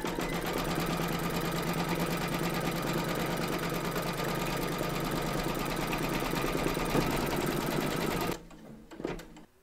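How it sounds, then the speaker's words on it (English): Embroidery sewing machine stitching an appliqué placement round on fabric in a hoop, a fast, even mechanical whirring and tapping held steadily close up for several seconds, then stopping, followed by faint handling sounds. "Pop your hoop into your machine and stitch round number 3 to secure them."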